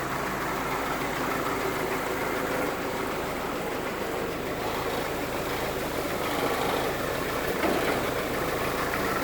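A 1946 Willys CJ2A with its Go Devil flathead four-cylinder engine idles, a low, steady, faintly distant running sound with a noisy wash over it and no talking.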